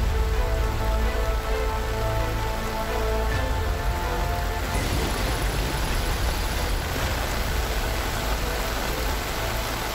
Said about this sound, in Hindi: मुंबई में बर्बादी की बारिश।